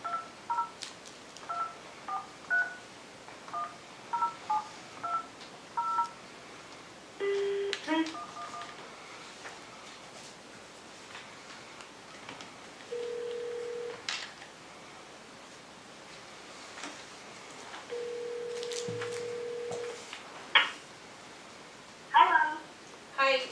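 A telephone call is placed during a city council work session: a series of DTMF dialing tones at the start, then two long electronic ring tones. Brief speech and faint room noise fall in the gaps.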